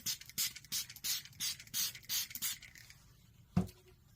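A spray bottle's trigger pumps in a quick, steady run of about eight hissing squirts, then a single dull knock sounds as the spraying stops.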